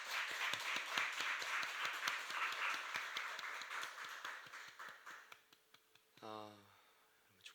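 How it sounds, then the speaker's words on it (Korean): A church congregation claps in a steady, even rhythm for the worship team, the beats gradually thinning and fading before a voice speaks. "찬양팀 특별히 먼저 예배의 문을 열며 공격 이겨 나가시는데 힘을 내시라고 박수 한번 해주시죠"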